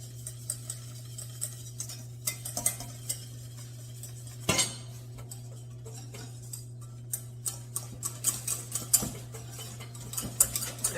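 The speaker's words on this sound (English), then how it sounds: "I'm going to start with a whisk so I could break down all the lumps" A metal whisk stirs flour into melted butter for gluten-free choux dough, giving quiet, irregular clinks and ticks against the pot over a steady low hum, with one sharper knock partway through.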